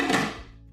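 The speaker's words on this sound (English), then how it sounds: "Put the lid on," A single close, dull clunk as the lid is set onto a crock pot, fading quickly.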